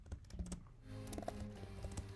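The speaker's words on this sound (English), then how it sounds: "Okay, so I'm just typing in that." Keys clatter on a computer keyboard in a quiet room, a faint, irregular run of soft taps and clicks with a few heavier thunks.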